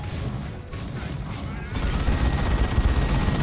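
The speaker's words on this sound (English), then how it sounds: "Assault Cannon fights over here." Assault cannon fire in a Dawn of War 2 3v3 battle between Terminators: dense, rapid mechanical gunfire that swells into a louder, continuous barrage partway through, with other battle noise mixed in.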